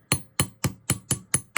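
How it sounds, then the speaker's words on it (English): An old style Whammer hammer strikes metal earrings for texture in seven sharp, evenly spaced blows, close and crisp, with no talk. "So what I'm going to use this is one of the old style Whammer hammers that I'm using."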